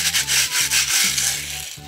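Sandpaper rubbed in quick repeated strokes over a clay pig-shaped vase after a drainage hole has been made, a close, steady scratchy rasp with short pauses between passes and no talking.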